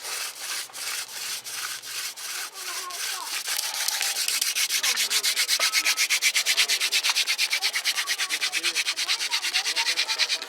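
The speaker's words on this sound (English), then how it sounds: "There's going to be a time here in a second where we're going to have to create dust and then go for a coal." Wooden spindle of a bow-less hand drill rubbing against a wooden fireboard; steady rhythmic rasping strokes that start slower, then speed into fast, even back-and-forth friction, close and moderately loud.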